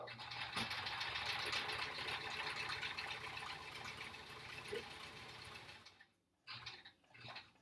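A sewing machine runs steadily while edging a quilt block, a close, continuous whirring stitch hum that slows and stops near the end, followed by a few faint handling noises.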